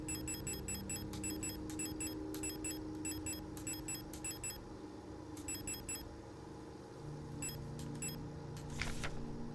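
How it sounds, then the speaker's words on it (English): A repeating electronic beep from the sci-fi horror video game Signalis sounds in regular clustered pulses over a low ambient hum, pausing briefly then resuming, with a faint rising whoosh near the end. "Get used to hearing that beep for a minute."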